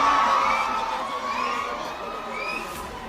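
A large crowd at a medical college foundation-stone ceremony shouts and cheers loudly in a continuous roar, with high whoops and yells rising above the noise.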